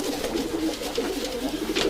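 White Istanbul and Urfa Arab pigeons coo in a soft, continuous rolling murmur close by, with no talking.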